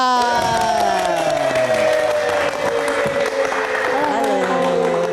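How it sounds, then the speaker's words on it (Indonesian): A studio audience at a live talk show greets a guest with loud applause and crowd noise, while a bright musical jingle with sliding tones plays over the top. "Kita kasih tepuk tangan lagi untuk Fadila Intan"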